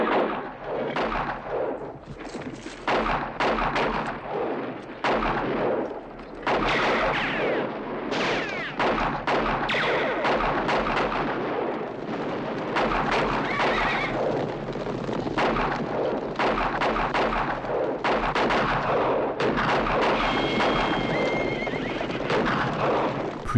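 Rapid volleys of gunshots crack and echo through a busy film gunfight scene, mixed with horses whinnying and hooves clattering, sustained and loud throughout.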